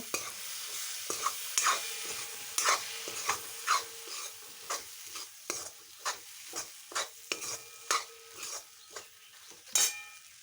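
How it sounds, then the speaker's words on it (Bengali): Boiled egg curry stirred in a pan, repeated scraping and clattering spatula strokes against metal over a quiet sizzle, irregular and close, with no voices. "এবার আমি ভালো করে নাড়াচাড়া করে নেব"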